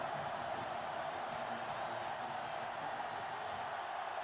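Stadium crowd in a college football video game, a steady, fairly soft wash of cheering and murmuring fans that holds evenly throughout with no distinct peaks.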